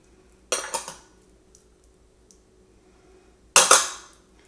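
Two short bursts of a spoon scraping and clinking in a bowl while seasonings are mixed into chopped, still-warm cooked sausage, separated by quiet.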